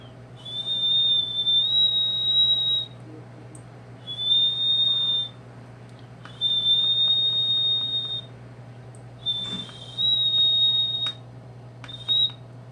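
A person whistles through the gap in their two front teeth, sounding five clear, steady high-pitched notes of one to two seconds each, separated by short pauses, over a low constant hum.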